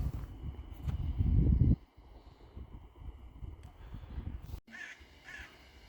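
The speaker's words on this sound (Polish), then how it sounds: "Pełno ptaków." Outdoor ambience on a river embankment by the Bug River, with distant bird calls and a few harsh caws, over rustling and wind-like noise.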